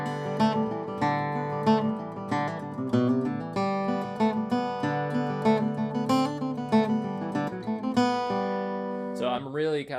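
Flatpicked guitar plays the fiddle tune Leather Britches with bright, clear picked notes and a bouncy rhythm accenting beats one and three, ending with a brief sliding scrape.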